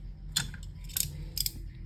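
Scissors cut adhesive tape in three quick, crisp snips spaced evenly apart, close up over a faint low hum.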